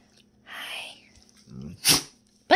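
A dog sneezes close by, sharp and brief, once near the middle and again at the very end, with low grunting breaths between and a soft voice in the background.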